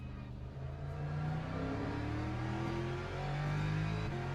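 GT3 race cars roar past in a racing video game, their engines revving with rising and falling pitch as they pass, steady and fairly faint throughout.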